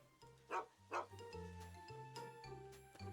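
A dog in the Fallout: Tale of Two Wastelands video game gives two sharp barks close by, then softer yips and whimpers over a low droning game soundtrack.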